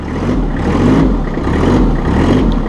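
Massey Ferguson 1526 Hydro Premium compact tractor, its diesel engine revving up under auto throttle control as the pedal is pressed, a loud, close, steady low drone that swells and eases slightly, with no talking.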